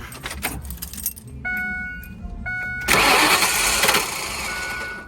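Keys jingle, then an RV engine starter whirs and cranks steadily for a couple of seconds without catching, heard close by.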